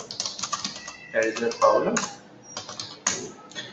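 A message is typed on a computer keyboard in bursts of crisp, close keystrokes, with pauses between runs and a voice speaking over parts of the tapping.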